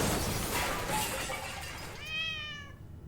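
A cat meows in a video game, a short tonal cry near the end following a burst of noisy, crackling game sound; fairly faint overall with no talking.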